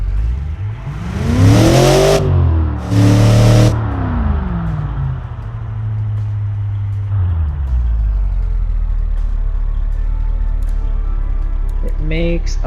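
Smooth idling of a pickup truck engine in a video game, a steady low drone with a few revs rising and falling early on, then settling into an even hum, loud and close throughout.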